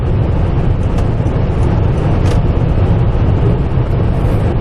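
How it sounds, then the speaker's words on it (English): A Lexus LS 400 cruises steadily on the highway, a continuous loud rumble of road and wind noise with a low, even hum and no change in pace. "And this is Lexus at its best. Highway cruising."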